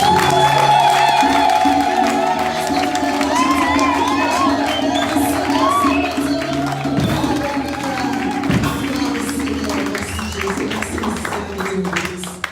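A church congregation cheers and shouts in acclamation, a sustained loud crowd roar with whoops and high children's voices, steady throughout and slowly easing toward the end.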